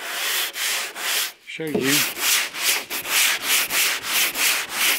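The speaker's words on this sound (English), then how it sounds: "So with the magic of sandpaper." Sandpaper on a DuraBlock worked over body filler on the curved bonnet of a Talbot Sunbeam Lotus, producing loud, rhythmic back-and-forth rasping strokes, with a brief pause where someone speaks.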